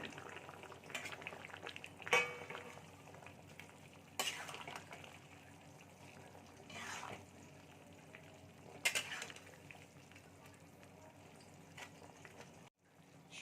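Vegetable curry with jaggery, potato and fried lentil fritters simmering and bubbling steadily in a pot, with occasional stirring scrapes and clinks throughout; no talking.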